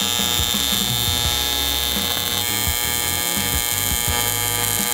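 Welding on a Hoonicorn car rebuild gives a loud, steady electric buzz and crackle that runs without a break for the whole stretch, close up and with no voices.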